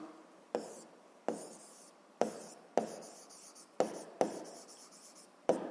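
Chalk or marker writing notes on a board during a seventh-grade physics lesson: sharp taps at the start of each stroke followed by scratchy, fading strokes, repeating steadily up close with no voice over them.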